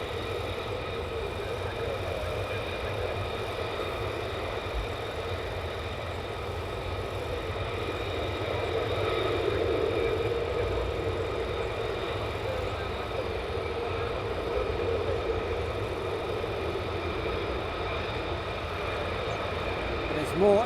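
At night on RAF Lakenheath, F-35 fighters roll along the taxiway with a continuous droning jet whine that swells slightly midway, then settles back to a constant roar.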